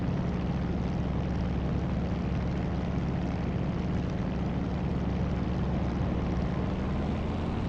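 A La-7 piston propeller fighter in the DCS World flight simulator runs under throttle, a loud, steady, droning engine roar that continues unbroken for the whole stretch.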